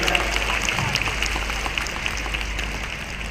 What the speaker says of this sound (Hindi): सिल्ली का ताली जोरदार बजना चाहिए ताकि लेके यहां से जाए